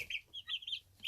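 A rooster or chicken on a farm gives a quick run of faint, soft clucks, heard alone in just over a second.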